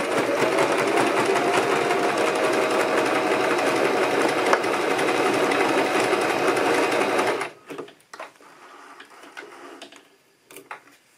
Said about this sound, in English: Put the foot down and then I try to hold the label straight, and then I'm just going to simply sew straight over it.